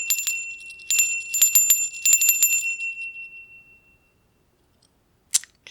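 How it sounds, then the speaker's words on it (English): Om bell struck several times in quick succession, bright ringing tones that fade over a few seconds, then silence and a final short metallic clink. "choice number 1 is our Om bell"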